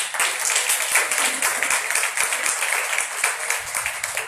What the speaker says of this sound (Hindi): आइए यीशु के जलाल के जोरदार तालियां बजाइए।